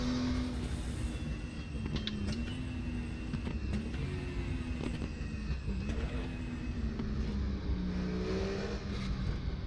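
Porsche 934 RSR Turbo in the RaceRoom racing game at Spa, its engine drone holding a low, slightly wavering pitch under steady load, with faint whine and intermittent clicks on top.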